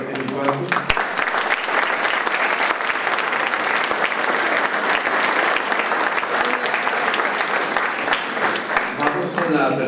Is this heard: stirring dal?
no